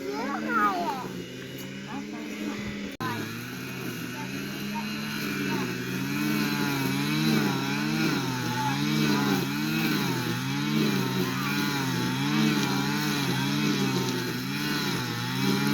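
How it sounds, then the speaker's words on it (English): Small engine running outdoors, a string trimmer's steady buzzing drone with wavering pitch that carries on throughout, with people talking over it. "Always lots of weed eating around here."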